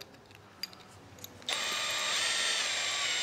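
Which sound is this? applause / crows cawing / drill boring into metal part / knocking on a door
drill boring into metal part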